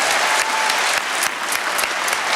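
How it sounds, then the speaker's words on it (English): Sustained, dense applause from an audience at the James Beard Restaurant and Chef Awards fills the hall, loud and continuous with no voices over it. "they get a round of applause."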